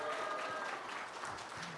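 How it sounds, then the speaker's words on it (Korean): Faint, steady applause from a church congregation at a thanksgiving service, a brief soft patter of many hands with no voices over it. "크게 다시 한번 박수 부탁드립니다."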